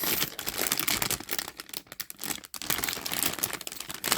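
Hard plastic wrapping on a Dooney & Bourke purse crinkles and rustles loudly up close in continuous, irregular bursts with a few brief pauses.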